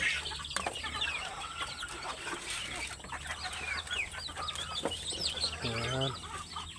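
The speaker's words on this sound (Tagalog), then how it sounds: "Maraming manok mga idol." A flock of many chickens clucks and squawks at a farm pen, with busy overlapping calls close by, while someone talks over them and a rooster call rises near the end.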